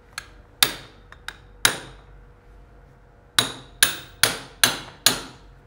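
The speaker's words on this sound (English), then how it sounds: "Once secured in place, it has to be hammered in its position." Sharp metallic hammer blows drive a tibial resection tower into place during total knee arthroplasty surgery, with a few scattered strikes first and then a steady run of five evenly spaced, ringing hits, close and clear with no talking.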